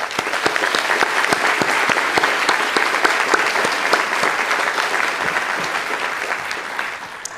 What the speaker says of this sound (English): Let's take a moment to thank them with a round of applause.